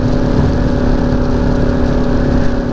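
A motorcycle rolls along Foothills Parkway with a close, steady engine rumble and humming tone lasting the whole short stretch, without speech.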